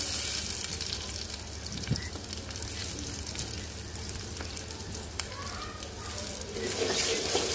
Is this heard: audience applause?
no